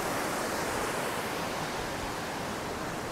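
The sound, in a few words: flowing water of a waterfall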